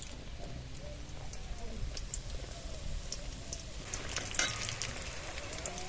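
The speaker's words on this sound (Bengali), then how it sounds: "আর এক পিঠ একটু উল্টে দিয়ে আবার 1 মিনিট ভেজে নেবো" Semolina biscuits fry over very low heat in a pan, giving a soft continuous crackle and sizzle with scattered faint pops, quiet and steady, briefly busier toward the end.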